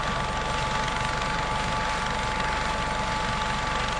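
A Raider high-speed helicopter with coaxial rotors turning in opposite directions and no tail rotor drones steadily, a loud continuous engine and rotor roar with a fine rapid beat underneath, sustained throughout.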